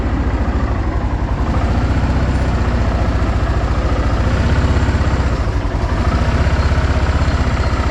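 A Kawasaki Bayou 400 ATV engine runs steadily after a valve adjustment, a loud, close idle with an even low-pitched chugging pulse and no talk.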